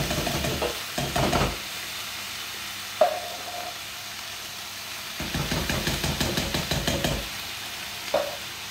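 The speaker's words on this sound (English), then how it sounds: "And you can hear it deglazing there." Bursts of sizzling and frying as sauce deglazes a hot pan, with intermittent stirring and scraping, close up and with no talking.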